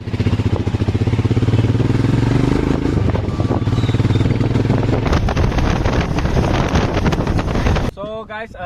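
Motorcycle riding along a side road near Guwahati, a steady loud engine drone with heavy wind buffeting the microphone, changing tone midway and dropping off near the end as other traffic noise appears.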